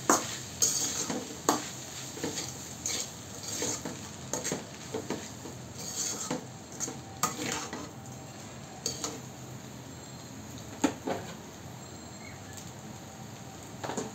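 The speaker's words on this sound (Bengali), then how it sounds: "এবার নুডলসের মশলাটা উপর দিয়ে ছিটাই দিবেন। তারপর মিশাইতে থাকবেন।" Noodles being stirred in a pan with spice mix sprinkled over them, giving repeated scraping and clinking of a utensil against the pan with a faint sizzle underneath, at moderate loudness and with no talking.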